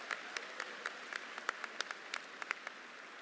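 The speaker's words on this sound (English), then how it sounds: "Let's give our school board members a big round of applause." Audience applause for school board members at a high school graduation ceremony, a thin, fairly distant patter of scattered claps with sharper individual hand claps popping through, steady across the whole moment.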